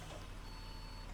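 A London bus on Route 24 in OMSI 2 gives a thin, steady door-opening beep tone over the low rumble of its engine at Victoria Station.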